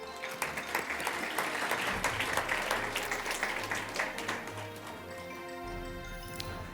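A courtroom advocacy contest's closing awards ceremony fills with audience applause, a crowd clapping steadily with some sharp individual claps standing out, then tapering off near the end.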